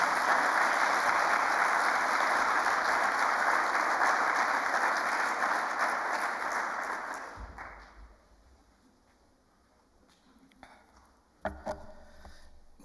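Conference attendees at a company's 20th anniversary event give loud, sustained applause to welcome a government environment official to the podium; the clapping fades out after about seven seconds, leaving quiet room noise with a few faint knocks.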